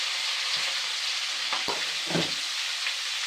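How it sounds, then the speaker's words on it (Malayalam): Sardines fry in a large pan with curry leaves, giving a constant close sizzle and spatter with a few brief scraping stirs and no talking. "മത്തി വറക്കട്ടെ കേട്ടോ."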